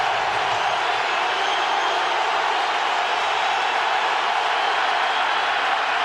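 A football stadium crowd on its feet during an NFL game between the Patriots and Steelers in 2004 roars steadily, a dense, continuous wash of cheering that holds at a constant loud level throughout.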